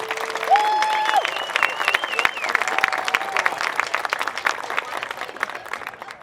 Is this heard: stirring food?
no